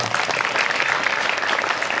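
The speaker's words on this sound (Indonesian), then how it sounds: "Tepuk tangan yang orang tuanya tidak memperbolehkan naik motor." Students at a school road-safety session at a junior high in Lumajang clap together in a dense, steady burst of applause, loud and close throughout.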